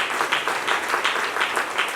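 An audience at an event applauds with steady, dense clapping that carries evenly through the whole moment, moderately loud and close.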